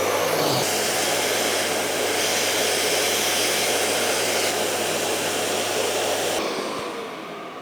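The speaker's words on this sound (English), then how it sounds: "Just turn on your vacuum." A vacuum cleaner runs with a loud, steady whooshing roar while cleaning up sanding dust, then cuts off and winds down near the end.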